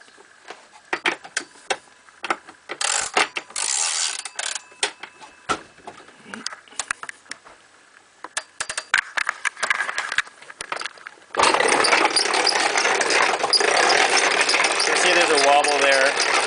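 A dual stator alternator with a flat disc rotor spinning and wobbling, scattered ticking at first, then a steady whirring hum near the microphone, with someone talking over it.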